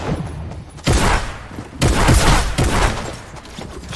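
Bursts of Fortnite gunfire crack out in loud, overlapping volleys, with three or four heavy booming shot clusters spread across a few seconds and no talking.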